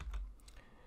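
Brief burst of computer keyboard typing, a few soft key clicks close by with no voices.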